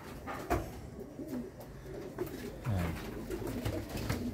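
A pigeon coos softly and repeatedly in a loft, low rounded calls under steady background noise and occasional faint knocks.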